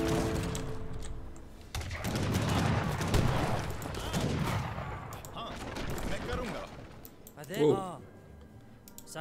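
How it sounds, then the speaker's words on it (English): Cannon fire and gunfire in the Age of Empires 3 strategy game, with a dense stretch of repeated booming shots and crackling volleys that carries on under a voice. "That cannon is destroying me."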